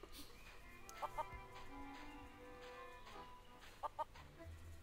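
Chickens clucking in the Curse of Monkey Island game, two quick clucking bursts near the start and two more near the end over quiet background music.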